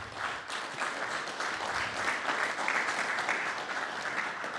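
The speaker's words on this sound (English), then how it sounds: "I want to give one last round of applause to Chris for doing a great job as our MC." An audience at an anniversary celebration applauds the MC, a dense, steady round of clapping that holds loud throughout.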